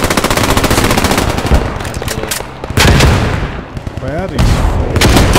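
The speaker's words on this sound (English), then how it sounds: "I'm gonna go Rambo with this machine gun" Machine gun fire in the Squad 44 video game, with loud, rapid, continuous bursts and brief pauses between them, close and dominant throughout.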